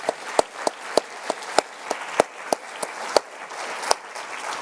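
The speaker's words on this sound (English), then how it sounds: "we need to give them a round of applause" At the close of a policy conference on social protection, a small audience applauds the event team. Sparse, distinct hand claps fall in an uneven, fairly steady rhythm over a quiet room, as if from only a few people.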